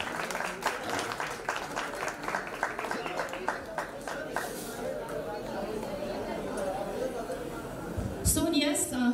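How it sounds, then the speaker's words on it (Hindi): An indoor crowd at a carrom tournament prize event claps steadily for several seconds, with chatter and talking running underneath before the clapping trails off. "जोरदार तालियां"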